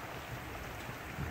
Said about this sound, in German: Ach, jetzt regnet es auch noch.